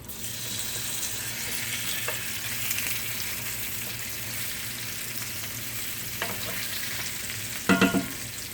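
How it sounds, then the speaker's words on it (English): Potatoes frying in vegetable oil in a pan, a steady broadband sizzle running throughout with a few sharper crackles and a brief louder pop of spatter near the end, with no talking. "I'm going to add some of my vegetable oil. About that much so I can fry up my potatoes."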